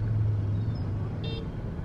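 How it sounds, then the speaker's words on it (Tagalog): Road traffic rumbles with a steady low engine drone from passing cars, and a brief horn toot sounds faintly near the middle, with no talk. "traffic is also there"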